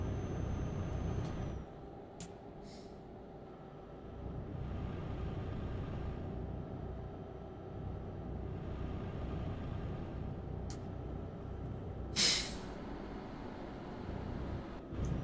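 Truck air brakes in a trucking video game: a short, sharp hiss of released air bursts out over a steady low engine drone, with a few fainter clicks and hisses scattered around it and no talking.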